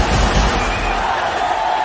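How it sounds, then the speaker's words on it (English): A cricket stadium crowd roars for Sachin Tendulkar, a dense, steady wall of cheering and screaming that holds at full volume without a break. "You can hear the crowd screaming for their favourite, the little master."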